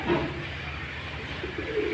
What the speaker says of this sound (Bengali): এসব মিলে আমার কবুতরের খামার